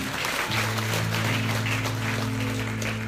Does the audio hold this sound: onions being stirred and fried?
no